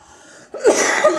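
A single short, harsh cough, close and fairly loud, after a brief quiet moment.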